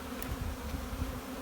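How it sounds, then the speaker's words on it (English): Honey bees buzz around an open hive being split, a brief, steady, close hum with no breaks or talk. "I want to take more bees out of this hive."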